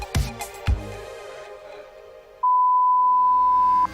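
A single steady censor-style beep tone, loud and sustained for about a second and a half, follows some brief knocks and low background murmur during a PC gaming showcase stream.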